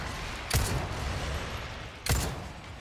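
Two single gunshots in the Resident Evil 4 Remake video game, fairly quiet sharp cracks about a second and a half apart over a low hiss of background.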